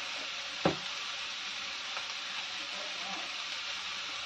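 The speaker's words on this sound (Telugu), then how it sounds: "ఇప్పుడు దీన్ని బాగా ఫ్రై చేసుకోవాలి" Sambar powder fries in a pan with a steady, close sizzling hiss, broken once early by a single sharp knock of a utensil.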